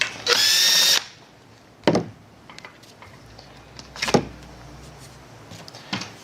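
A power screwdriver whirs in one strong, steady burst of about half a second to remove a screw from the bottom foot of a GR1000T, followed by several short clunks and taps from handling the part.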